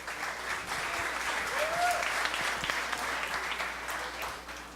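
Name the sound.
audience applause for a speaker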